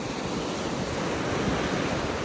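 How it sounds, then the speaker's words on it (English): Gulf of Mexico surf at a North Naples, Florida beach, waves washing up onto the shells as a steady close roar of rushing water mixed with wind buffeting the microphone, no voices. "When this these waves come up onto the beach, they're pretty much gonna sweep off all the shells."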